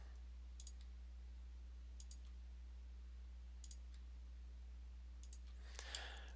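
A handful of quick mouse clicks while drawing lines in SketchUp, spaced a second or more apart over a steady low electrical hum, faint and close, followed by a brief rustle at the end.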